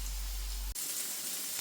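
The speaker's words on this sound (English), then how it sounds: "They're sizzling away nice." Steady, close sizzling of burgers frying in a hot pan, with a brief dip partway through before the crackle resumes, no talking.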